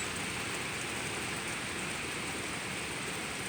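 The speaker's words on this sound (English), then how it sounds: "you can see that we just went through a rain band" Hurricane Dorian rain band pouring down, a dense, even hiss of heavy rainfall on surfaces that holds steady for the whole stretch, fairly soft and distant-sounding, with no voices.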